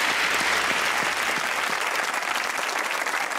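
Sustained audience applause on a comedy talk show, a thick even wash of many hands clapping at moderate loudness without a break.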